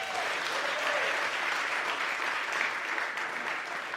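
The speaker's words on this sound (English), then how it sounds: "So we welcome her to the stage with a big round of applause." Audience applause welcoming a jazz performer to the stage at a live radio concert series, a steady, dense wash of clapping that holds evenly for several seconds.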